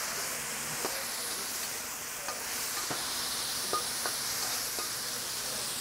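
A small splash of liquid hits a hot pan of stir-fried mushrooms and vegetables for moo goo gai pan, giving a soft steady sizzle and hiss with faint clicks of stirring, fairly quiet and close.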